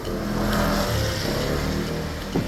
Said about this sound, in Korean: 반가운 배달 오토바이 소리가 들립니다.